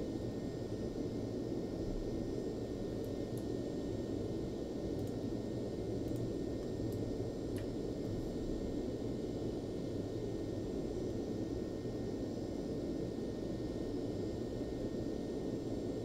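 Cessna 525 jet climbing out after takeoff in X-Plane 12, a steady, dense engine roar and rushing air holding constant throughout with no break, alone.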